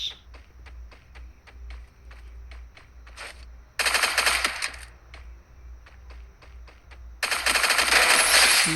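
P90 submachine gun fire in a shooting video game comes as two long, loud, rapid bursts, preceded by a series of sharp single taps and clicks, with a low engine-like drone running underneath throughout.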